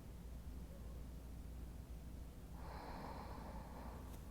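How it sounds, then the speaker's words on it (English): During a yoga session, one deep breath is drawn in slowly, a soft airy inhale emerging from a faint hiss of background noise partway through. "We'll just take a big breath in right here"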